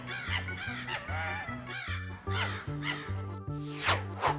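A crow caws repeatedly as a sound effect in a Hindi telling of the fox and crow fable, with harsh, loud calls and a steady rhythmic backing, no voices.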